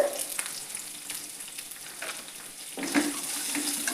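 Crushed garlic and small shallots sautéing in a pan, a steady close sizzle with soft stirring scrapes and a brief louder burst near the end.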